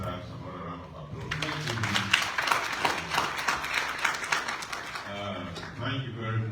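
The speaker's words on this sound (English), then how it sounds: "I think Dr. Charlie deserves another round of applause." Applause from a conference audience in Freetown, Sierra Leone, a dense burst of clapping that swells after a quiet start and fades near the end, with murmured voices underneath.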